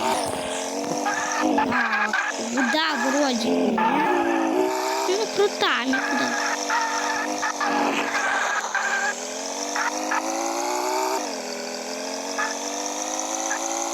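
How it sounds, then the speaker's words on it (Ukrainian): Car driving in a video game, engine revving and shifting with tires squealing through turns, steady and fairly loud for the whole stretch while someone speaks briefly over it. "Едем на машине."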